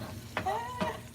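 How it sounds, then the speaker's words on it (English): Potatoes sizzle and fry in a hot pan, a steady close crackle with a couple of louder bursts of spattering, as if stirred, lasting about a second. "you're frying the potatoes"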